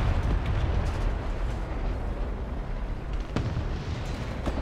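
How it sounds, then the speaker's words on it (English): Enemy gunfire in a first-person shooter on a Domination map set in Sweden, heard as a rumbling, booming wash of distant shots and explosions with a few sharper cracks standing out. "He just shot at me."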